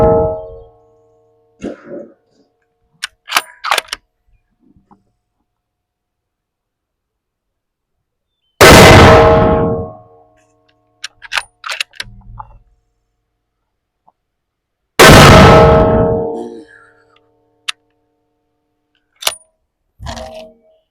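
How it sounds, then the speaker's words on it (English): Two loud, sharp blasts from a .300 Win Mag Tikka T3x rifle striking half-pound Tannerite targets, each a broad explosive boom with a decaying tail, separated by several seconds of quiet, faint clicks and handling noises. "I'm going to shoot a few of these little half-pound Tannerite targets."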